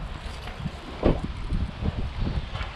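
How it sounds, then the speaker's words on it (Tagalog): Gusty wind blows close to trees at an outdoor house site, a faint rushing noise with soft buffeting swells and a brief stronger gust midway, no speech. "So windy, right? We're so close to trees."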